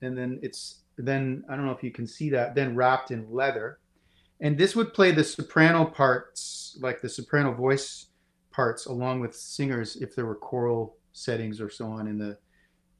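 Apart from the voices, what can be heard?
No everyday noises stand out.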